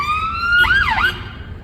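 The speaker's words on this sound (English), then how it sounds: "sirens and thing." Police siren wailing nearby over traffic rumble, a steady tone at first that breaks into rising and falling yelps before fading out.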